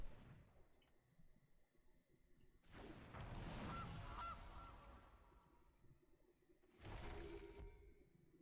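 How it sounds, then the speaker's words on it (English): Goose honking sound effect from the card game MTG Arena, two bursts of loud, harsh honking with a quieter pause between them, no talking. "Alright, so we'll start with the goose."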